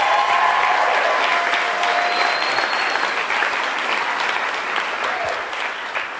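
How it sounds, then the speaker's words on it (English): Wedding guests break into loud, sustained applause for the cooks, a dense crowd clapping steadily throughout and fading slightly toward the end. "So everybody clap it up for the cooks."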